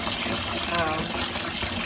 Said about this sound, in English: So basically what I start with is filling up a pot, a large pot,